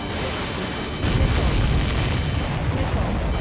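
An enemy ship blows up during an aerial mission in Ace Combat 7: a heavy rumbling boom swells partway through a loud, roaring noise bed.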